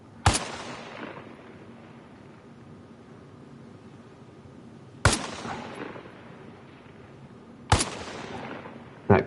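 Gunfire in Arma Reforger on PS5, three single loud rifle shots spaced several seconds apart, each ringing out with a long echoing tail over quiet background.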